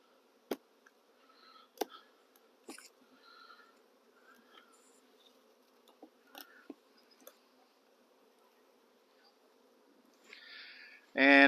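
Honey bees in a nuc hive give a faint, low, steady buzzing hum with scattered sharp clicks and knocks from handling, then a louder buzzing burst right at the end.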